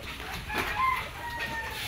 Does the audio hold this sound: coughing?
no